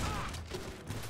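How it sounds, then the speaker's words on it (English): Gunfire in the video game Grand Theft Auto 5, a brief burst of several rapid shots sounding dense and close, lasting about a second with no talk over it. "Who's shooting at me?"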